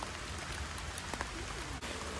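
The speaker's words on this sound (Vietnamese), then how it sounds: "Hiện tại bây giờ trời mưa quá trời luôn" Heavy rain falls steadily during outdoor fishing, a dense, continuous hiss of drops on surfaces with a few louder nearby splashes.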